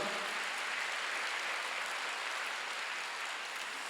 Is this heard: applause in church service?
yes